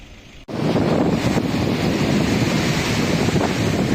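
Waves throw up spray in a loud, steady roar of surf and rushing water that begins suddenly and is partly mixed with wind buffeting the microphone.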